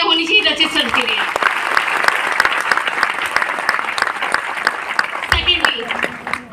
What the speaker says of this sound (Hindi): इस बेहतरीन सेंट्री के लिए मैं चाहूंगी एक बार जोरदार तालियां होनी चाहिए रचित सर के लिए